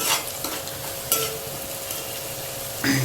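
Onions stirred in a frying pan for a chicken dish, a utensil scraping through them over a steady sizzle with a few sharper clatters, close and moderately loud, no talk.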